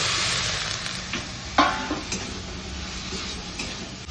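Spring onion stalks frying and being stirred into a masala in a pan, a dense close sizzle with scraping stir strokes and one sharper clatter partway through, no talking.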